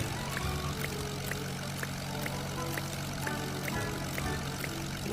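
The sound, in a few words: airplane engine in Roblox video game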